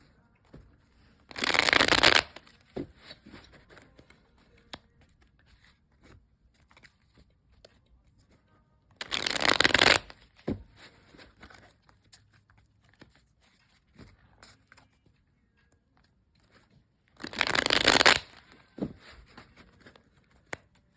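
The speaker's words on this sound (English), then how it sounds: "I will shuffle a few more times and split the deck" A tarot card deck is shuffled in three quick, crisp riffling bursts spaced several seconds apart, close and fairly loud, with near-silence and a few small handling taps between them.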